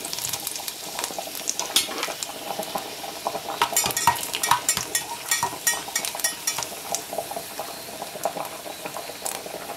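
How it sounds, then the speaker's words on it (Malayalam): Dried red chilies fry in hot coconut oil in a pan, giving a steady crackling sizzle with sharp pops and spits, close and moderately quiet, with no talking. "അതിലോട്ട് നമുക്ക് മുളക് ഇട്ട് കൊടുക്കാം."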